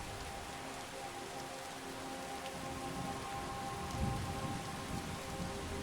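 Heavy rain falls steadily in the game Skyrim, played in VR, with a low distant thunder rumble swelling briefly near the end.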